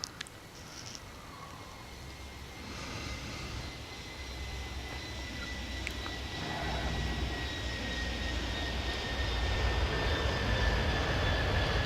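Beechcraft aircraft engine in the Airport Madness 3D game at London City: a steady droning engine hum that slowly grows louder, with a faint high whine over the broadband rumble.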